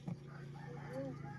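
A rooster crows once, brief and faint, over a low steady background hum.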